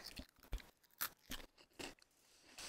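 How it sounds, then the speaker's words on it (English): A crunchy snack is chewed close to the microphone in a series of irregular sharp crunches and bites, fairly quiet, with no talking. "if you hear crunching, that's just me chewing. Because I'm having a snack."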